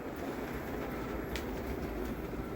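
Low, steady rumble of a large scale model train running at a train show, a faint continuous rolling hum with a few soft clicks, indoors and without speech.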